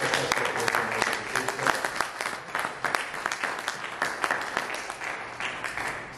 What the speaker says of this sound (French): acclamons cette personne.